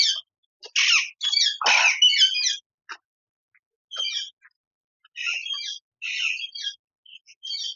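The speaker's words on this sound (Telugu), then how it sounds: "ఇక్కడ నెమ్మలు చాలా ఉన్నాయి." Peacocks at the Warangal zoo park give harsh, squawking calls in short bursts separated by silent gaps. The birds sound moderately close, and no one speaks.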